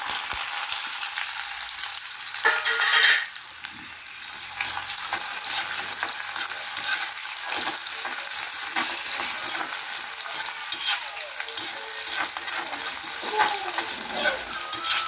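Onions sizzle and crackle steadily in hot oil with curry leaves and garlic, with occasional stirring scrapes in the pan, close and fairly loud throughout.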